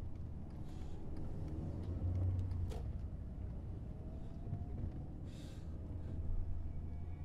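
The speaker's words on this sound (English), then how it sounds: "It's cars going past at 4 frames a second." Cars passing by in the horror video game Fears to Fathom: Home Alone, a low rumbling whoosh of traffic swelling and fading a couple of times, moderately near, with no talk.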